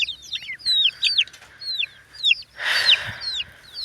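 Chicks let out of their coop, a flurry of repeated high chirps and peeps close by, with a brief louder rustling burst midway.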